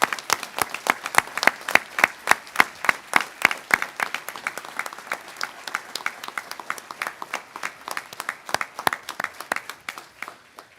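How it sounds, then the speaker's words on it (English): A seated crowd at a 2021 college graduation ceremony claps steadily for the graduates, dense sharp handclaps holding loud and even throughout with no voices over them. "I'd like to invite everyone to give a special round of applause to all our graduates here today"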